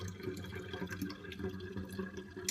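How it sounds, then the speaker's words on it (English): Kombucha being poured into bottles, a steady liquid trickle and splash running continuously for the whole stretch at moderate, close level with no talk. "As you're pouring, there's air that mixes with the kombucha."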